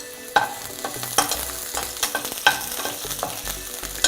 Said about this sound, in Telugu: జస్ట్ ఒక 2 టేబుల్ స్పూన్ ఆఫ్ ఆయిల్ వేస్తున్నాను. మనము ఆనియన్స్ వేస్తున్నాము.